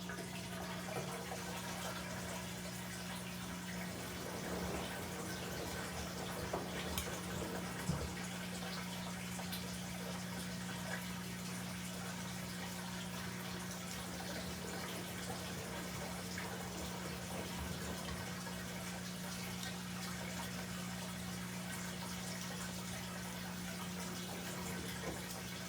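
An LG WM3770HVA front-load washing machine drains with a steady pump hum and running water throughout, constant and fairly quiet, with no talk.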